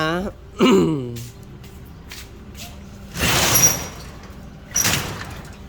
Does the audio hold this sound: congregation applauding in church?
no